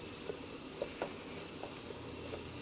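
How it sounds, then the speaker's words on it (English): Flour being stirred a little at a time into coconut cream in a hot pan for chickenless chick'n gnocchi, a steady soft sizzle with a few faint scraping stirs, close and fairly quiet with no talking. "Just gonna throw in the flour a little at a time so that you can mix it in and you don't get all clumpy."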